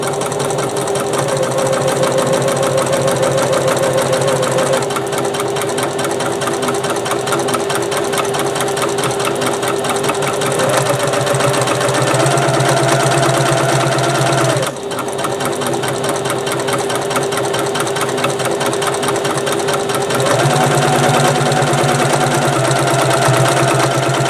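A sewing machine runs continuously at close range, basting piping in place on bag panels, with a rapid even stitching chatter and a brief pause near the middle.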